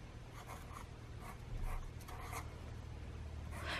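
A hand lettering pen scratches softly across paper in short strokes, faint and close, over a steady low background hum with no voices.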